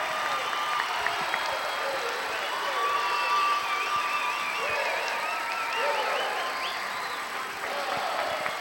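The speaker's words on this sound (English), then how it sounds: "And the Kalamazoo crowd responds." A Kalamazoo ice hockey crowd at a 1986 game cheers and applauds in a sustained roar of claps, whoops and shouts, with an announcer's voice faintly in the mix.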